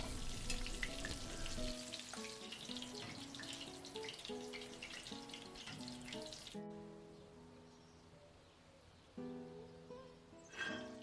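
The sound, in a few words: lamb meatballs frying in olive oil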